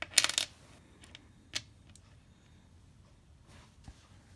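Thai 1 baht coins handled and clinking: a bright jingle of metal at the start, then a few sparse, faint taps against a quiet background.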